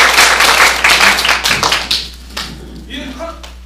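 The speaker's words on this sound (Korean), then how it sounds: "박수 한번 크게 치고 마실게요." A roomful of farmers at a training session claps loudly together for about two seconds, then the applause quickly fades into scattered taps and murmuring voices.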